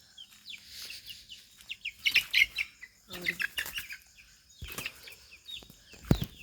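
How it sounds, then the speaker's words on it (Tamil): Chicken chicks at a family garden farm give repeated high, thin chirps in short bursts, close by, with some outdoor background noise between calls. "இங்கே கோழி குஞ்செல்லாம் இருக்குது பாருங்க,"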